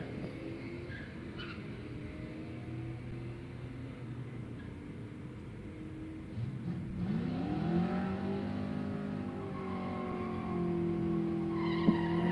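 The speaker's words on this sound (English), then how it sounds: "Eric Phillips goes 1472 at 93 miles an hour" Drag racing cars run down the track at a Wednesday night drag strip. Engines rev and whine from a distance with tire squeal and rising pitch sweeps as they accelerate, steady and moderately faint with no talking.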